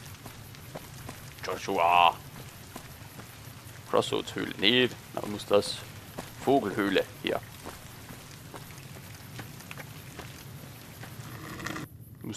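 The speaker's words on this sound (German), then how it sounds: "Und jetzt regnet es hier." Steady patter of rain in the video game Fallout: New Vegas, Honest Hearts, runs through the whole stretch, with someone talking over it in several short bursts.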